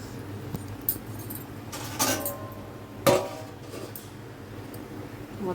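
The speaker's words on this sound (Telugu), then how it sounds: "మూత పెట్టేసాను. పులుసు మరగనిద్దాం." A lid goes onto a pot of Telugu-style seelavathi fish curry, landing as a sharp metallic clank near the middle, with a few lighter clinks just before and after in a quiet kitchen.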